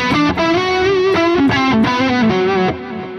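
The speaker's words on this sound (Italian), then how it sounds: "perché se stacco il reverbero," Distorted electric guitar played through a Soldano SLO-100 amp plugin with reverb switched off, a dry, saturated riff of sustained chords and picked notes, loud and close.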